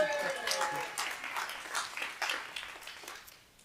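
An audience applauds a performer at an international festival gathering, the clapping a steady broadband patter that gradually thins and fades toward the end, with some voices mixed in.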